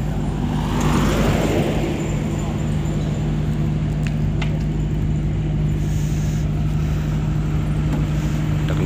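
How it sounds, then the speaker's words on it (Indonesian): A motor vehicle passes during an impromptu carnival event in Indonesia, a loud continuous engine drone with a low hum filling the whole stretch, close by and steady throughout. "Ada kendaraan lewat."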